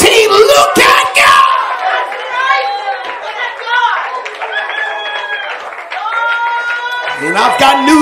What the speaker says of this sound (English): Clap your hands if you got a testimony in 2018.